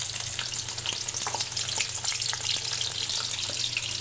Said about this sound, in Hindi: प्याज को ब्राउन होने तक पकाएंगे